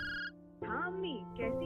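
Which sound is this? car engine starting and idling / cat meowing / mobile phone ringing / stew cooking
mobile phone ringing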